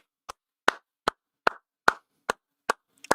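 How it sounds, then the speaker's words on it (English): Single person clapping hands, eight sharp separate claps spaced roughly every half second, close and crisp against silence. "I just clap"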